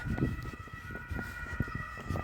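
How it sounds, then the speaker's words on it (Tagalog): An ambulance siren wails with a steady, sustained tone over low street rumble and scattered knocks throughout the short stretch. "Busy yung ambulansya."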